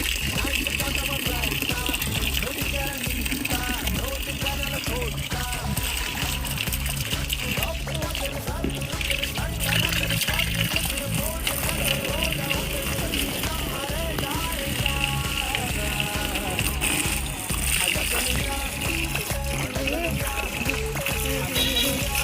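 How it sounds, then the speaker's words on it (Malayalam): Water poured into a fridge box during cleaning, a steady, continuous splashing and pattering that runs close and unbroken throughout. "ഇനി നമുക്ക് വെള്ളം ഒഴിച്ചിട്ട് വേണം"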